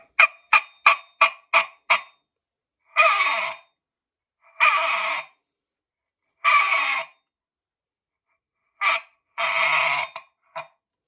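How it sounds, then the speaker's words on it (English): Homemade can noisemaker blown like a duck or moose call: a quick run of short honks, then several longer honking blasts separated by pauses, loud and close with nothing else around. "Kind of sounds like a duck call or a moose call."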